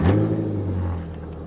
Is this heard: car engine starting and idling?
yes